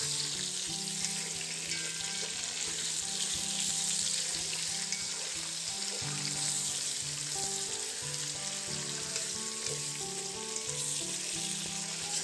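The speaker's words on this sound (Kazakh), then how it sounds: "Етті жақсылап қуыруымыз керек" Meat sizzles and fries in a pan with onions for Uzbek plov (shashpa palau), a loud, steady crackling sizzle that runs unbroken throughout, with occasional stirring.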